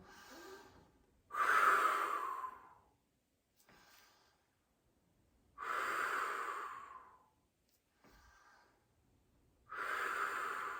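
Three loud, forceful exhales during a Pilates mat exercise with light weights, each a breathy rush of about one and a half seconds, spaced several seconds apart, with quieter inhales in between, close to the microphone, no talk.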